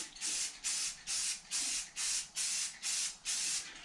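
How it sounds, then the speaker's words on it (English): A thick spray coating hisses out in eight short, evenly spaced bursts, each a sharp, close airy blast that throws off heavy overspray. "And it's putting down a lot of overspray as well."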